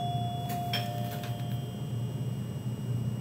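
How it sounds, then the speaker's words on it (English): A home doorbell chimes in a few quick bright tones near the start, then fades into quiet room noise, with no talk over it. "That somebody's heavy on my doorbell."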